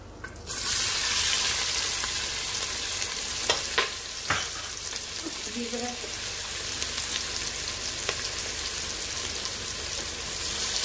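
Chopped onions frying in a pan for a white mutton korma, a steady bright sizzle with a few sharp clinks and stirs, near and alone.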